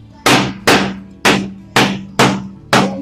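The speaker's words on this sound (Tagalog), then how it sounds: "Para siguradong dikit na dikit, pupukin natin ang martilyo." A hammer taps down formica laminate in six sharp, evenly spaced strikes, each a close, loud knock with a short ringing decay.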